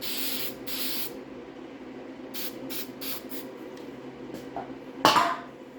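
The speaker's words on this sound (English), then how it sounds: "I'll just go back to where I missed with the spray." Spray adhesive hissing from a can onto seat foam while fitting covers to a 1973–76 Triumph TR6 seat, in several short bursts of varying length, fairly close and clear, with a sharp knock near the end.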